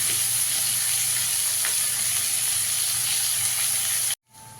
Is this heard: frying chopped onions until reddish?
yes